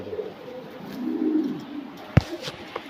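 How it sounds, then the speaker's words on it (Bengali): Indian red dom pigeons coo in low, soft, rolling calls close by, with a sharp tap and faint rustling in the background. "এটা লাল দম কবুতর"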